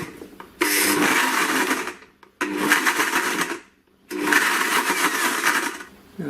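A kitchen blender pureeing strawberries in three loud whirring bursts, each lasting about one to two seconds, separated by short pauses, close and alone with no voices.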